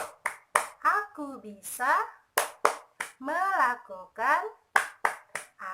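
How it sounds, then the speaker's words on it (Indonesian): A children's rhythmic clapping routine with sharp hand claps falling in a steady pattern between bursts of spoken chanting, close and clear. "Tepuk semangat, semuanya ikutin."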